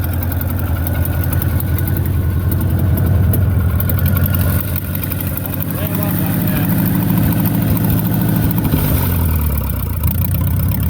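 A Ferguson TO30 tractor engine runs at a steady idle, loud and close with an even low chugging, while someone talks over it.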